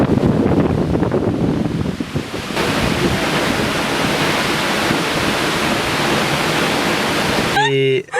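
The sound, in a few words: waterfall with wind and water spray at night in Iceland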